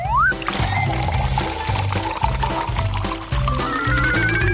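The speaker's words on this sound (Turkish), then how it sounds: "Şimdi süt ekleyeceğim." Milk pours onto cereal in a bowl, a steady gurgling liquid stream under a bright, rhythmic musical backing.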